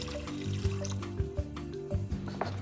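Water runs and trickles into a cooking pot, a steady liquid pour with small splashes and clunks, close and moderately loud, with no speech.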